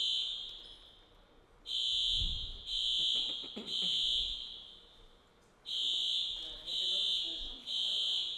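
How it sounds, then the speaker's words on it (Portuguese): A building fire alarm sounds during a seminar, shrill electronic tones blaring in long bursts with short pauses between them, while people talk faintly underneath. "De vez em quando o alarme de incêndio dispara."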